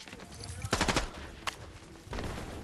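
A turret in a video game fires short rapid bursts, two or three quick rattling volleys at moderate volume over a low background hum.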